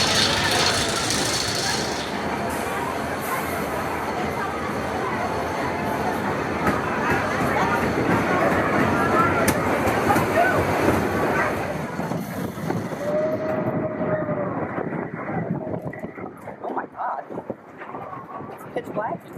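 The belt-driven Phoenix wooden roller coaster at Knoebels rumbles and clatters along its track in a steady loud roar, with riders' voices mixed in and the noise thinning toward the end.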